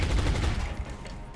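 Gunfire from an XCOM Long War battle: a brief, loud burst of rapid automatic shots, dense and close, fading slightly as it ends.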